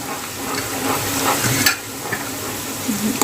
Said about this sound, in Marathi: त्यानंतर आपण यामध्ये घालणार आहोत लसूण आणि कढीपत्ता. त्यालाही चांगलं असं तेलात फ्राय करून घ्या.